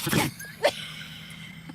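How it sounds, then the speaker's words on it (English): A dog sneezes hard twice, the first a loud close burst and the second a brief sharp one, with quiet background between them. "She sneezes so hard she hits her nose."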